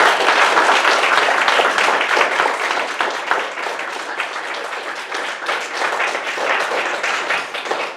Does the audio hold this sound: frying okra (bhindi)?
no